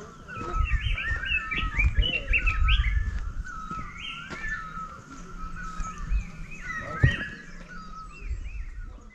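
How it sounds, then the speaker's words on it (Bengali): Birdsong fills a forest at Rishop in North Bengal, several birds chirping and trilling at once over a low rumbling background, with one sharp knock near the end. "প্রচুর পাখি আছে এখানে।"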